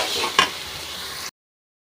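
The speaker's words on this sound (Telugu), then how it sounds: "బాగా ఫ్రై అయిన తర్వాత అల్లం వెల్లుల్లి పేస్ట్ వేసేసుకొని ఫ్రై చేసేసుకోవాలండి" Ginger garlic paste frying with tomatoes in a hot pan: a steady close sizzle with a brief stirring scrape, cut off abruptly into silence partway through.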